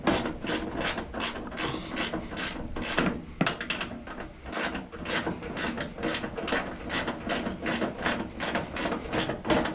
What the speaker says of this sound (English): now I can get a ratchet on this